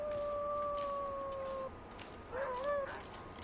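A wolf in The Long Dark gives a long, level two-toned howl that breaks off, then a shorter wavering cry follows, fairly close and loud with no talk over it.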